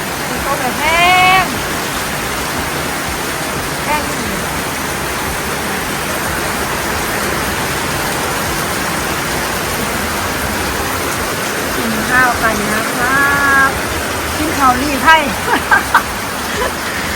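Heavy rain pours down steadily over an outdoor kitchen while a meal of stir-fried basil pork is eaten, a dense constant hiss with a few brief bird chirps and voices at the edges.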